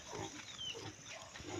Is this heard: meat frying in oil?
no